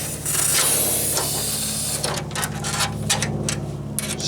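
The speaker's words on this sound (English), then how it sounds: "Spraying it around in there." Aerosol can of rust treatment sprayed over a sandblasted 1977 Camaro Z28 hood, a steady close hiss that runs continuously, then breaks into short separate bursts toward the end.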